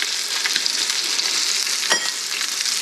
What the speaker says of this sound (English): So I am searing the sides of this beautiful pork tenderloin.